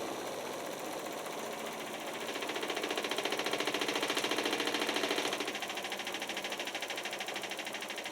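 The motor of a Miele W5000WPS Super Tronic washing machine runs with a steady mechanical hum and a fast rhythmic pulsing, swelling louder and higher through the middle before settling back. The sound is close and continuous, with no talking.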